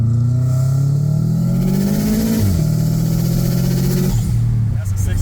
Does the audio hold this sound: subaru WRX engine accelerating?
yes